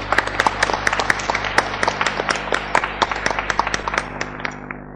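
At the close of a scientific conference, the audience claps to thank the organizers, a crisp irregular patter of many hands that stays loud and then thins out toward the end.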